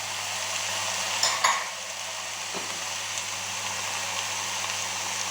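Mushrooms and onions hiss in a hot pan with a steady, even sizzle. A couple of sharp utensil clicks come near the start, and the frying continues alone and close.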